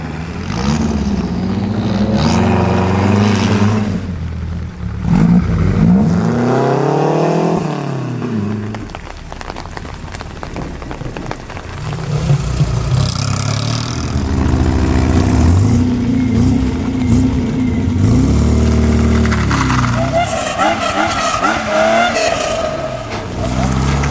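Rally cars drive along a wet road in the rain at the Ronde de la Fayolle rally, engines revving and roaring past close by with tire hiss and squeal, rising and fading as each car passes.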